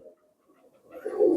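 Pigeons coo softly, a faint low murmur rising to a louder throaty coo near the end, close by.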